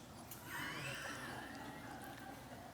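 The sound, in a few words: horse neighing sound effect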